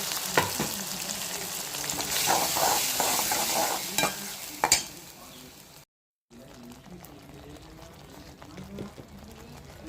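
Ground masala paste and onions fry for a peas masala with a busy sizzle and stirring scrapes. The sound drops out briefly, then quieter frying and stirring continue.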